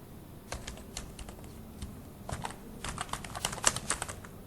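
Code is typed on a computer keyboard in quick, close, irregular clicking bursts of keystrokes, with short pauses, in a quiet room with no voices.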